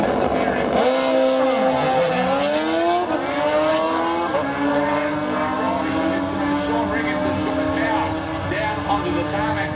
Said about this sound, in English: That one there, a 1350cc Kawasaki.